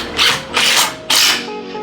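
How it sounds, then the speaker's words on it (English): Milwaukee power drill driving screws while mounting a motorized patio screen, three loud close bursts of whirring with short pauses between them. "It's a good drill."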